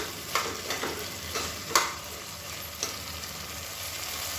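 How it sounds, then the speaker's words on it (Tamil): Chicken sautés in hot oil with a soft, steady sizzle, broken by a few quiet scrapes and clicks of stirring. "இப்போ இதை கொஞ்சம் நேரம் இந்த எண்ணெயிலே வதக்கிக்கலாம்"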